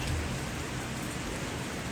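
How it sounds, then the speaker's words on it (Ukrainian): Rain falls in Kharkiv, a steady, dense hiss of drops that stays even and fairly loud from start to finish, with no voices over it. "Сьогодні в Харкові дощ."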